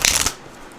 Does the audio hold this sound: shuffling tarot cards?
yes